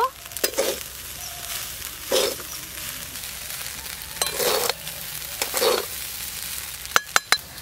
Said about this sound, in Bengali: ভাতটা কিন্তু কম আছে ভাজতে হবে। আর একটু ঘি দেব।